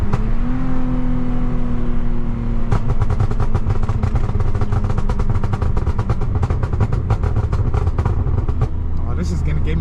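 A Lexus IS250 with an M-Force tune accelerates hard, its exhaust note climbing in pitch before breaking into a loud, rapid, pulsing roar up close.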